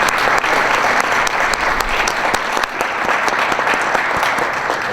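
An audience at a community meeting claps in loud, dense, sustained applause that fills the room evenly from start to finish.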